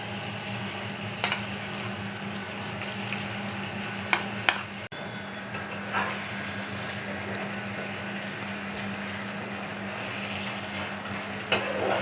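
Mustard and poppy seed paste sizzles steadily as it goes into a hot pan of doi potol, a continuous frying hiss broken by a few sharp clinks and stirring scrapes, with no talk.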